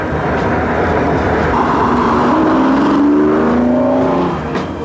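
A Lamborghini Diablo sports car engine roars and revs, rising in pitch as it accelerates, loud and close throughout.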